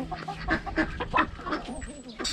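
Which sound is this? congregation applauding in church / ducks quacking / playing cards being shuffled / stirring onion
ducks quacking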